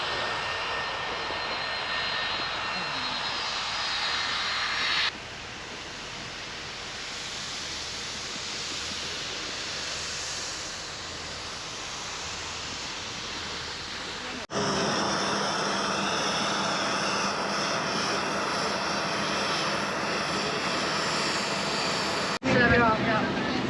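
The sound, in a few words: airplane engine at Union Glacier, Antarctica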